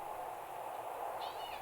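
A pet cat gives a single faint, brief meow over a constant low room hum.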